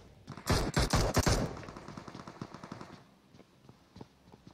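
Gunfire in a competitive pro scrim video game match, with a dense, loud burst of rapid shots up front, then lighter scattered single shots trailing off and growing fainter toward the end.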